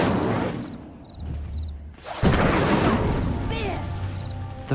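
The Incendio fire spell is cast in Hogwarts Legacy, a sudden whooshing burst of flame followed by a sustained crackling roar, loud and close, with game sounds around it.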